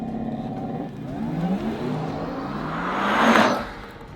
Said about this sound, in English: this car provides impressive horsepower